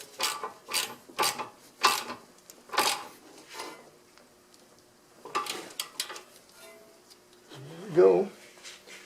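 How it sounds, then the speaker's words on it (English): Ratcheting clicks in short bursts come from tightening the nut on the outer tie rod of a 2003 Acura TL, close and fairly quiet, with a brief voice near the end. "we've tightened the nut onto the outer tie rod"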